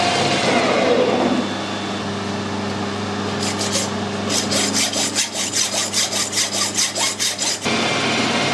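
A brass piece being sawn off by hand, with a short stretch of quiet rubbing followed by a fast, steady run of close, loud back-and-forth saw strokes that stops abruptly.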